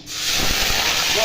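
A ground paste of ginger, garlic and onion hits a hot pan for chicken curry, giving a loud continuous sizzle and hiss that swells quickly and holds steady.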